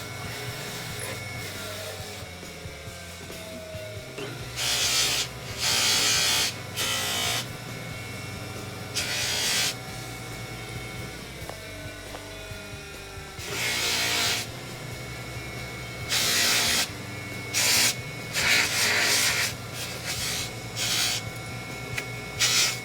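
Sterling silver pins are worked against a polishing wheel with compound, giving repeated loud, hissing rubbing bursts of a second or two, separated by short pauses, over a steady low motor hum.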